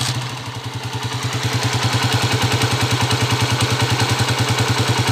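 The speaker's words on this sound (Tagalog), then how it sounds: "Pandarin muna natin tong motor nila." A motorcycle engine catches and settles into a steady, rhythmic idle with a clattery, pulsing beat, loud and close, with no voices over it.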